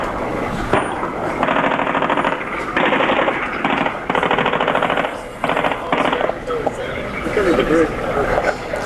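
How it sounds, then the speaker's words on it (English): Gunfire from a main battle tank about 50 yards away on slightly higher ground during the Iraq War, heard as loud repeated bursts of rapid automatic fire with brief pauses between them, while a reporter speaks over it. "the shooting you hear is from a main battle tank just over my shoulder, about 50 yards away on a slightly elevated plane"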